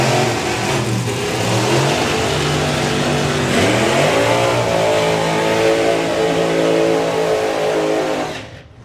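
A drag racing car's engine revs hard and steadily during a burnout at an FIA drag racing event, loud and close, with the pitch swelling and easing before the roar cuts off at the end.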